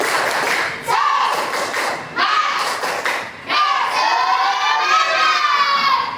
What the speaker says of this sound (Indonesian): Gue pengen dengar semangatnya dengan tepuk semangat dan balik.